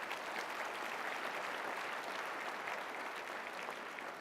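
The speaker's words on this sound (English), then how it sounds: "Please, a round of applause." A gala audience claps steadily for its sponsors, an even, dense wash of applause that holds at a moderate level throughout with no voices over it.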